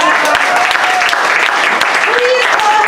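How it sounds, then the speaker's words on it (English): Audience claps for a poetry book at a poetry salon, a steady, full burst of applause throughout, close and loud, with some voices mixed in. "It's a book. Clap for it."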